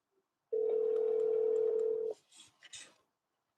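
A telephone call being placed: a steady dial tone holds for about a second and a half, then cuts off, followed by a few faint clicks and a sharp burst at the very end.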